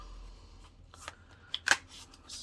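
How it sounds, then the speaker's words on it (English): A deck of tarot cards shuffled by hand, a few short riffling bursts and crisp flicks, close and fairly quiet with no talking. "we are going to just give a bit of a shuffle here"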